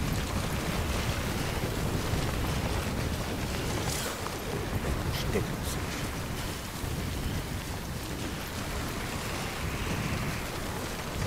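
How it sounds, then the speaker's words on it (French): Wind gusts steadily across open terrain in Death Stranding, a continuous breathy rush at moderate level with no voices. "Ah, il y a vraiment du vent."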